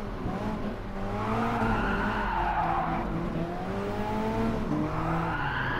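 Alfa Romeo 4C 1.7 16V TBI in the racing video game Gran Turismo Sport, on the Interlagos circuit, with a steady engine drone and tires squealing and skidding through corners, continuous and close.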